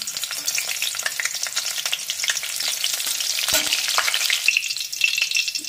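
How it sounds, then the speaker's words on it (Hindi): Three or four green chillies fry in hot oil for pakoras, making a loud, continuous crackling sizzle close up, with occasional stirring. "हम पकौड़ी के साथ खाने के लिए 3-4 हरी मिर्च को हम तल ले रहे हैं।"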